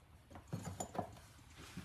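Wrench work on the bolts of a British Seagull 40+ outboard motor, a few faint metallic clicks and ratcheting scrapes, close and quiet against a soft background.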